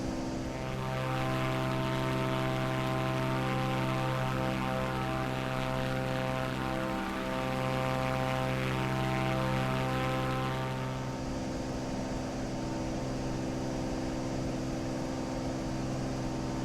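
A Cessna Corvallis TT's propeller engine in Microsoft Flight Simulator 2024 drones steadily and loudly throughout, a continuous tonal hum with a slight dip in pitch midway and a shift in timbre toward the end.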